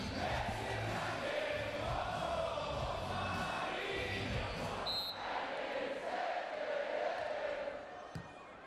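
A beach volleyball crowd at an Italy versus Austria Nations Cup match roars and cheers loudly to a song played over the venue speakers, a dense sustained wall of voices with shouting throughout.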